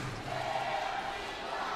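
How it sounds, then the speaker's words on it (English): A crowd in the Taeyang Gymnasium in Incheon chanting during a badminton match, a broad sustained roar of many voices carrying through the hall. "And the chant goes up from the crowd here in the Taeyang Gymnasium in Incheon."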